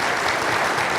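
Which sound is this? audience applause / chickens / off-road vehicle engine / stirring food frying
audience applause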